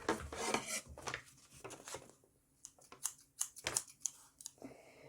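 Scissors cut paper for a large origami shuriken, giving quick crisp snips and rustling, with irregular bursts close to the mic and no talking.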